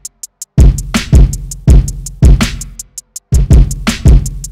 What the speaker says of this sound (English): And all together with a texture snare and a hi-hat, they then sound like this.